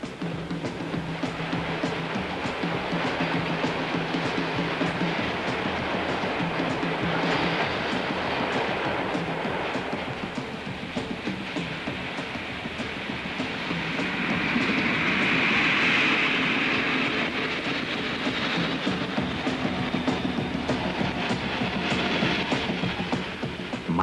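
A freight train rolls along the Tauern railway in 1976, with a continuous loud rumble and clatter of wagons, repeated clickety-clack of wheels on rail joints and a brief squealing swell midway, with no voices.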